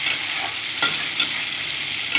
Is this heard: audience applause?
no